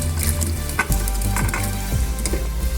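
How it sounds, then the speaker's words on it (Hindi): Egg or beef koftas are added to a simmering gravy and stirred in a pot, giving a loud close sizzle with scraping stirring strokes and bubbling throughout, with no talking. "इसमें कोफ्ते ऐड करेंगे।"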